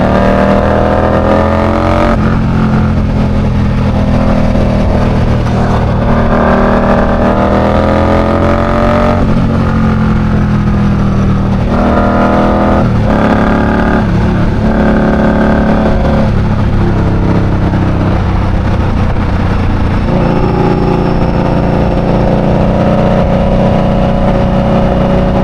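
A motorcycle engine revs hard and pulls steadily while riding on a New York City highway, with loud, continuous engine drone and rising and falling pitch as it nears high RPM, wind and traffic filling the background.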